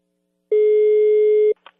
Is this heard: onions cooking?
no